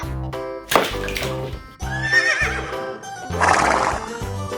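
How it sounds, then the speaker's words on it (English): A horse neighs loudly and close, with a series of quavering whinnies and snorts run together over several seconds and a louder, rougher burst near the end. "Horse."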